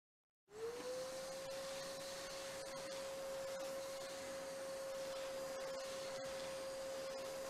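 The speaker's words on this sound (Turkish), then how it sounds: "Kapat süpürgeyi kardeş." A vacuum cleaner in the Ship Graveyard Simulator video game switches on and runs with a steady, loud whining hum that holds unchanged to the end.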